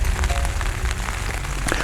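Rain falls steadily on a camouflaged bird-photography hideout on the shore, making a dense, loud patter with close, scattered drops hitting the cover. The pattering runs unbroken with no voices.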